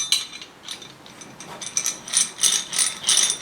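A 17mm ring spanner rattles loosely inside a Go-2 socket, giving a close, rapid series of bright metallic clinks and chatters that grow busier toward the end, with no voices.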